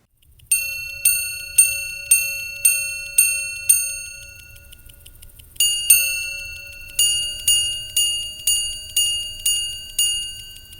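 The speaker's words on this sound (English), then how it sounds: "to activate the repeater, you have a normal but very elegant slider on the left side of the case, and off it goes, chiming the hours, quarters and minutes" An H. Moser Endeavour minute repeater tourbillon watch chimes the time in clear, delicate metallic tones: a run of six evenly spaced strikes, a pause, a two-tone quarter strike, then six more decaying chimes, close and isolated.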